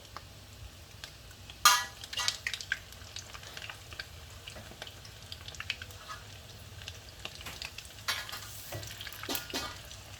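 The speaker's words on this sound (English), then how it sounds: "the beef balls are frying at the moment" Oil crackles and sizzles steadily as corned beef balls fry in a pan, with sharp pops and occasional stirring scrapes, close by and moderately loud.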